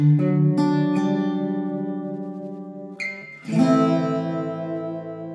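Strummed chords ring out from an Enya Nova Go smart guitar using its built-in reverb, with no amp connected. Two chords sound in turn, each decaying slowly with a lingering reverberant tail.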